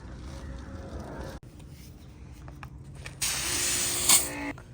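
A hose or pressure washer sprays water to rinse dirt off a Nissan 240SX, a steady loud hiss starting partway through after quieter mechanical noises.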